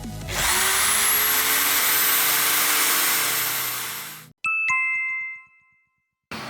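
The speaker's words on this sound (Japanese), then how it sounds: "でこれで実際に何かに穴を開けてみましょう" A bench drill press with a dust collection hose fitted drills a hole, a loud steady motor whine with extraction roar running for about four seconds, then stopping, followed by a few sharp ringing metallic clinks.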